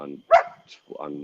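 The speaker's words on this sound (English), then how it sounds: "sorry about the noise, my dog and all that stuff" A dog gives one sharp bark, with a faint second yip after it, while someone talks over a call.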